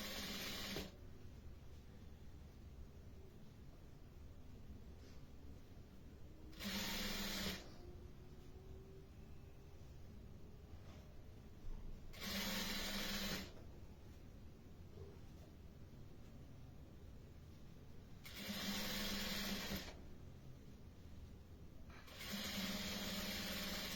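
A sewing machine topstitching a seam on red fabric, running in four short bursts of steady whirring stitches between quiet pauses, faint and close against a soft background hiss.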